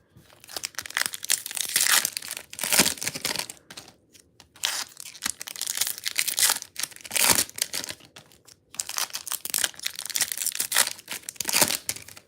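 Bowman baseball card packs are torn open one after another, their foil wrappers crinkling and ripping loudly up close in long dense bursts separated by brief pauses.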